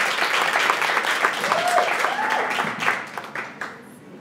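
An audience applauds a speaker named Njabulo after his talk, a dense wash of clapping that fills the room and fades toward the end, with some voices and cheers mixed in.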